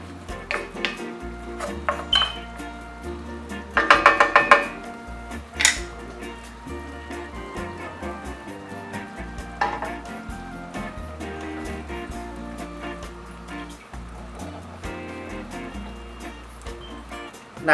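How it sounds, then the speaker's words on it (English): Cooked spaghetti thrown into a metal pan for carbonara, with clattering pan and utensil knocks, a sharp metallic burst early on, then steady lower scraping and stirring over a constant background hum. "I'm gonna just take the pasta and throw it in the pan"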